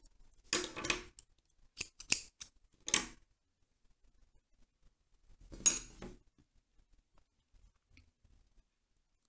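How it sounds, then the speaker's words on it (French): Scissors snip through crochet yarn in a handful of short, close, crisp cuts spread across a quiet room, the blades clicking faintly between snips. "on coupe le fil pour changer de couleur"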